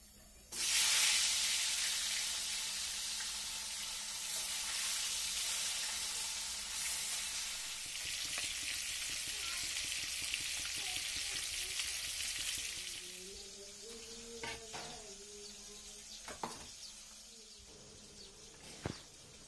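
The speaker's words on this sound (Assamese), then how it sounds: "এতিয়া প্ৰথম মাছকণ ফ্ৰাই কৰি লওঁ" Pieces of fish frying in a wok for a home lunch, a loud hiss and sizzle that flares at the start, stays steady, then thins into softer crackles and occasional clinks.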